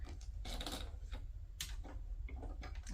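A sewing machine stitches a handmade journal tag in quick mechanical bursts of rapid needle clatter, close and fairly loud, with brief pauses between runs and no talking.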